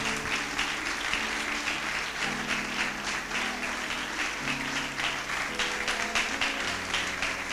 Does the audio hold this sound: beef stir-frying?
no